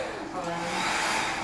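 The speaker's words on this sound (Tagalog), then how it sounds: "Tapos may blower din. Try natin yung blower." A hotel hair dryer blows in a suite room in Baguio City, giving a steady airy whoosh with a droning motor hum. It is heard close and fairly soft, with faint breathy sounds in the brief moments around it.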